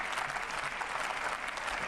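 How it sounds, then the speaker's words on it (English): A brief burst of steady clapping from a crowd, dense and even throughout. "Big round of applause for Jimmy Jam."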